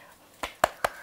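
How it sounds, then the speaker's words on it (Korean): Four sharp hand claps, spaced and getting slightly quicker, close and crisp over a quiet room. "박수 한번 쳐주세요."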